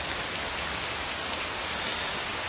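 Steady, dense rain pouring down on a spring day when cherry blossoms are falling, an even continuous hiss of drops close by with no pauses and no voices.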